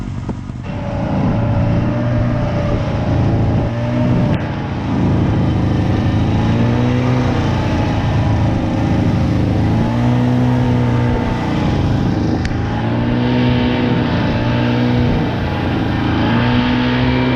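A Buran snowmobile engine runs close and loud during a long-distance grayling fishing trip, a continuous droning roar whose revs rise and fall as it drives.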